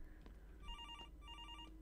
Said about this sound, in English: is that my phone ringing?